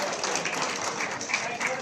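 A crowd at an official appointment-letter ceremony claps steadily, a dense, even patter of many hands filling the hall without pause.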